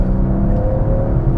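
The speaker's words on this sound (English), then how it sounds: "it does have a nice deep growl from that 3-liter inline 6" A 2021 Mercedes-Benz E-450 Cabriolet with a 3-liter inline six, likely in Sport Plus mode, gives a deep, steady engine growl heard up close from inside the car, with no talking.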